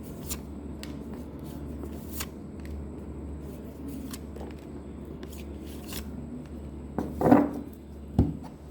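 Tarot cards are shuffled and handled in a soft, continuous papery rustle with scattered light flicks and taps. Near the end come a couple of louder snaps.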